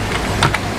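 A couple of quick keystrokes tap on a computer keyboard, close and brief over a faint hum, with no talking.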